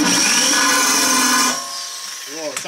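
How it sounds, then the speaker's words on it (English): A power drill whines steadily and loudly at close range while boring into a removable tooth plate, then the motor winds down and stops near the end. "Hopefully this is going to drill here."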